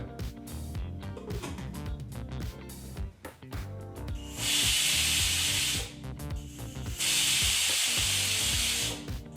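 A pressure cooker used to cook avarekalu vangibath on a stove releasing steam in two long loud hissing bursts over rattling and shuffling kitchen sounds.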